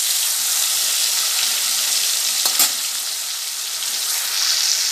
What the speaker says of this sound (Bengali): মাছগুলো দেখুন ভেজে নিচ্ছি